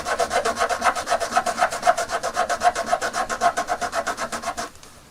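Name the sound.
filing a Lego piece by hand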